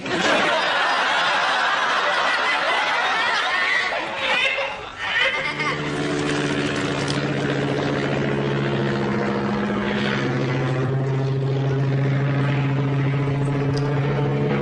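A propeller plane flies overhead, its steady droning engine tone settling in after a noisy, chuckling start and holding loud and even to the end.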